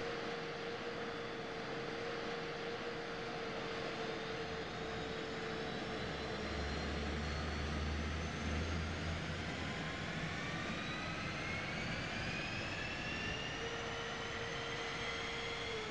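An F-15E's jet engines spool up in DCS World, a steady broad roar with whining tones climbing slowly in pitch over about sixteen seconds, loud and constant with no talk.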